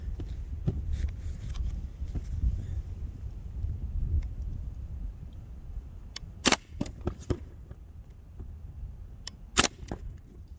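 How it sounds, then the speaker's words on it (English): Air pistol shots from a Crossan R1 fired over a chronograph, a few sharp cracks scattered through the clip, two of them loud and bright, over a low rumbling background with no talk. "So I've loaded up my Crossan R1. This is going to be the first shots across the cranny for comparison."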